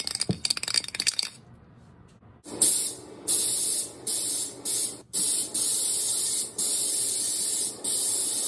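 Spray paint hissed at security cameras during a staged robbery: after some clattering, a series of sharp aerosol bursts comes in close, about eight short sprays of different lengths in an uneven rhythm.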